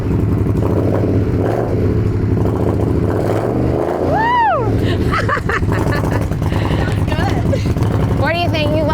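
A custom 2025 Indian Scout motorcycle engine runs loud and close, rumbling steadily throughout with rising revs partway, while voices and excited cheering carry over it.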